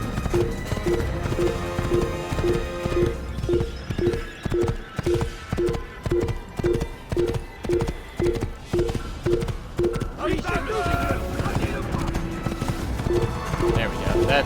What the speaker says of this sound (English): My horse.